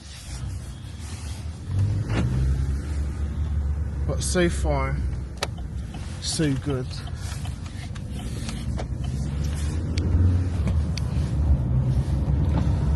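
A Vauxhall Astra on a road test drive after a rear-end knocking fault, its engine and road noise humming steadily from inside the cabin while someone talks over it.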